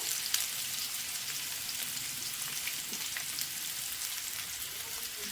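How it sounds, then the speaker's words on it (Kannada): Bitter gourd pieces frying in three to four tablespoons of oil make a steady, hissing sizzle at moderate distance, with faint crackles and no voices. "ಇದನ್ನು ಆಯಿಲಲ್ಲಿ ಸ್ವಲ್ಪ ಒಂದು 3-4 ಟೇಬಲ್ ಸ್ಪೂನಷ್ಟು ಆಯಿಲ್ ಹಾಕ್ಕೊಂಡು ಚೆನ್ನಾಗಿ ಫ್ರೈ ಮಾಡ್ಕೋಬೇಕು"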